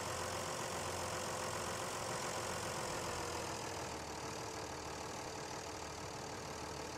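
A tractor engine runs steadily and loudly as it strains against a rocket-shaped load stuck in mud, a continuous close rumble with a rough, knocking edge and no speech.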